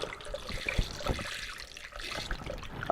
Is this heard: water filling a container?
yes